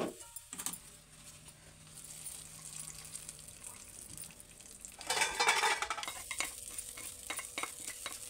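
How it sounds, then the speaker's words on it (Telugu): Tempering poured into cooked dal in a pot, with a steady sizzle that flares into a louder, crackling burst midway, along with stirring and scraping sounds nearby, and no voices. "పప్పుని తాలింపు వేసుకుందాం."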